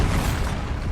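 A Bombarda explosive spell in Hogwarts Legacy on PS5 lets off a brief, loud, rumbling blast that holds steady for about a second.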